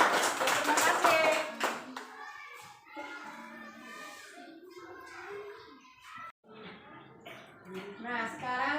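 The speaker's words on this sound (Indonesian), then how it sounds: "Tepuk tangan." Schoolchildren in a primary classroom clap their hands in a brief burst of rapid applause at the start, then a teacher and children talk over the quieter room.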